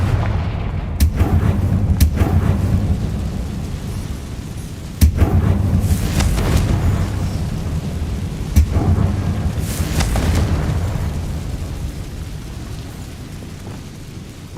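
Confringo spell explosions in Hogwarts Legacy, several loud booming blasts spaced a few seconds apart over a continuous rumbling, rain-like ambience, without talk.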